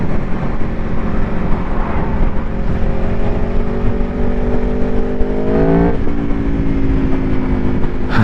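A 2024 Aprilia Tuono V4 1100 Factory naked motorcycle revs loud and close on a test ride, its engine note climbing steadily through the gears and then dropping sharply before rising again.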